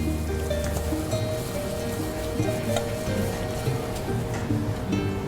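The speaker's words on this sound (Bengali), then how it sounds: "এটা ফ্রাই করে নিই" Marinated bhetki fish frying in oil, a dense, continuous crackling sizzle heard up close and steady for several seconds, with faint kitchen tones beneath and no talk.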